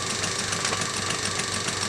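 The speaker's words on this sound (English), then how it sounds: "The noise that can be heard is the exhaust beep." A small model beam engine runs steadily, its exhaust beat giving a rapid, even chuffing pulse over a continuous mechanical rattle, close and fairly loud, with no voices.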